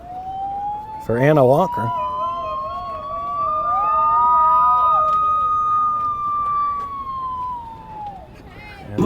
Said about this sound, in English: And the sirens are going off again